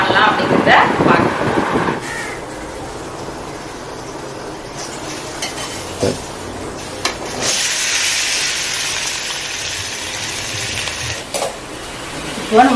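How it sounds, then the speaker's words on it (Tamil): Onions being sautéed for chutney in a pan in a home kitchen, with a soft sizzle and occasional stirring or pan scrapes running throughout, fairly quiet. "இப்போ நான் சட்னிக்கு ரெடி பண்ணி வதக்கிட்டு இருக்கேன்."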